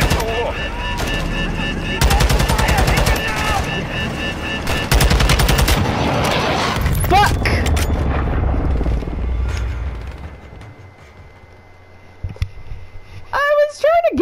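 Dense video game gunfire and missile blasts in rapid bursts, loud and continuous through most of the stretch, with booming impacts, fading toward the end as a voice and other game sounds take over; people talk throughout.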